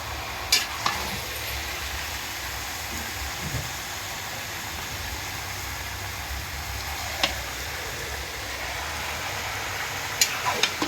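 Curry stirred in a sizzling pan, a steady frying hiss under a few sharp scraping clinks of the spoon against the pan, close and moderately loud with no one talking.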